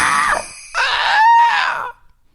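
Loud, strained screaming in two long bursts with a short break between them, played during a French general-knowledge quiz show, rising and wavering in pitch before cutting off into quiet.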